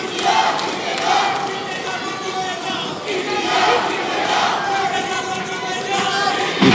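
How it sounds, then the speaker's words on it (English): Indian fans in a Commonwealth Games wrestling arena crowd cheer on wrestler Bajrang Punia, a loud, continuous roar of voices and shouts with swelling chants rising and falling throughout. "You can hear the Indians in the crowd"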